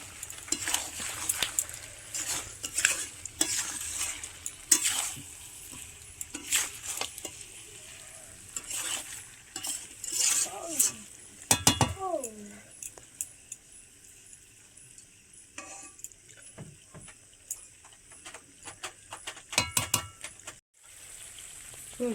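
Meat frying in a pot at an outdoor village picnic is stirred, giving a soft sizzle with irregular scraping and clinks of a spoon against the pot, moderately close, with brief background voices.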